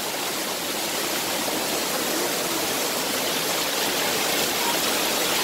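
A waterfall and stream at Kings Canyon, California, roar as a steady, loud, broadband rush of water, continuous and close throughout with no voices.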